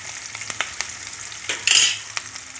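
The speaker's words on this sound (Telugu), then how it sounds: "ఉల్లిపాయ ముక్కలు కూడా వేస్తున్నానండి. కలుపుకోవాలి, కొంచెంసేపు మగ్గనివ్వాలండి." Onion pieces frying in a pan and being stirred, a close soft sizzle broken by scraping utensil strokes and one brief louder hiss.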